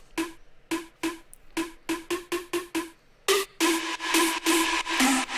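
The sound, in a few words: unprocessed synth pluck sample in FL Studio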